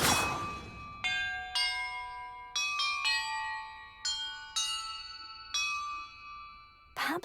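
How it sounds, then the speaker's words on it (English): Chimes from a set of bells rung in a puzzle in the video game Hogwarts Legacy, about eight clear ringing strikes at irregular intervals, each note sustaining and decaying over the last. "clues about the order I'm supposed to ring the bells in."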